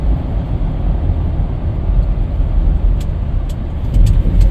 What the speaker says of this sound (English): we're gonna check the brakes real quick here at the stop sign